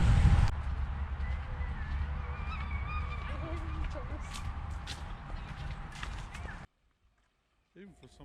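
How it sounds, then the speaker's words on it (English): A wild goose honks in a park garden in Toowoomba, with outdoor ambience and voices running underneath, then an abrupt cut to near silence and a faint final call. "before being chased by a wild goose"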